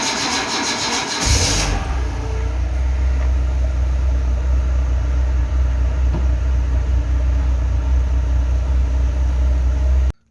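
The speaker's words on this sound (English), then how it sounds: "So I'm going to start the car." A Renault Kangoo/Dokker engine cranks briefly and catches about a second in, then settles into a steady, close, low idle hum that runs unbroken to the end, with no voices.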